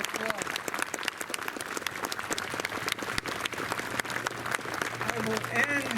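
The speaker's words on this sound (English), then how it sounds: "So let's give them a round of applause." A crowd at a town event celebrating Lafayette's return to Sturbridge applauds the organizers. The clapping is sustained and fairly loud for about six seconds, with a low hum beneath it and faint voices mixed in.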